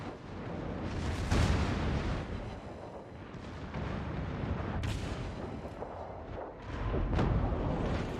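Italian warship secondary guns firing in a naval combat video game, a dense stream of rapid booms and bursts that rolls on steadily, loud and close, with swelling peaks of overlapping shots.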